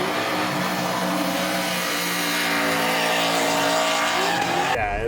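A 1000-horsepower Ford Bronco off-road rig on 42-inch sticky Nitto tires drifting with wheels spinning at high speed, a loud continuous engine roar and tire squeal held steady and close throughout.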